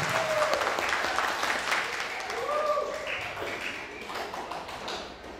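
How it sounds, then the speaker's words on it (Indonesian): An audience at a work-culture lecture applauds continuously for several seconds, with dense clapping carrying on under a speaker's voice. "Tepuk tangan untuk kita semua."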